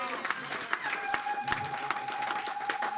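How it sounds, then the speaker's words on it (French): A church congregation applauds after a sermon, scattered claps and cheering voices over a sustained tone, moderately faint and somewhat distant, with voices mixed in throughout. "Donnons une acclamation."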